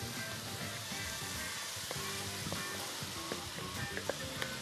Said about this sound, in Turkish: Yavaş yavaş tenceremize ilave edelim. Onları kavurmaya devam edeceğiz.